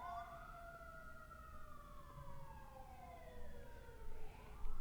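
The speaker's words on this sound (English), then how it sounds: "I'm sorry, y'all, if you guys hear those sirens." A distant emergency siren wails, its pitch sweeping up and down in long glides, fairly faint over a low rumble of background noise.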